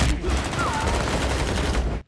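A rapid burst of gunfire rattles loudly for about two seconds, cutting off abruptly at the end.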